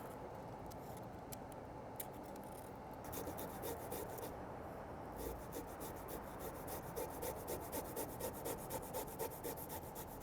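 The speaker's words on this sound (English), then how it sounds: "I'm gonna grate up about 1 tablespoon of garlic." Garlic and ginger being grated on a microplane in a home kitchen, a quiet, continuous rasping scrape with rhythmic strokes growing slightly stronger midway.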